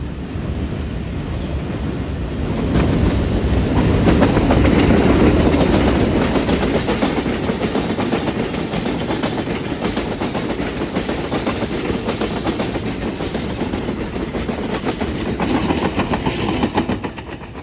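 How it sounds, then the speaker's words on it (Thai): Freight train 722 from Hat Yai to Bang Sue hauled by Alsthom diesel locomotives at front and rear, passing close and loud with a steady rumble and rhythmic clickety-clack of wagons over rail joints. "ขณะนี้ก็มีครถสินค้า 722 หาดใหญ่บางซื่อเข้ามานะครับ"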